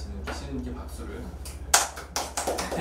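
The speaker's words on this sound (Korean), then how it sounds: "준비하느라고 고생하시는 피디님께 박수를" A few brisk claps ring out for the producer at a Korean study session on IPS and ZKP, short and sharp over a steady low electrical hum.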